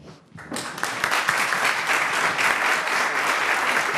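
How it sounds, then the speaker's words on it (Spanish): Audience applause breaks out at a panel award ceremony, starting abruptly after a brief pause and continuing as a dense, steady wash of many hands clapping in a large room. "primero voy a llamar a Alejandro Watson con un buen aplauso"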